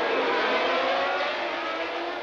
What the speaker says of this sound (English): The engine revs rise,